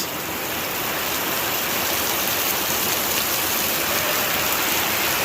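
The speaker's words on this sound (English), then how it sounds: "it's been raining like this for 15 minutes" A steady, heavy downpour hisses and drums on surfaces, loud and continuous with no pauses or voices.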